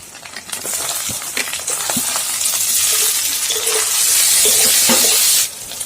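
Chopped onion fries in a pan with ginger-garlic paste and chopped tomato for a dhaba-style masoor dal egg tadka. A steady, close sizzle runs throughout, with scattered clinks and scraping, and then cuts off near the end.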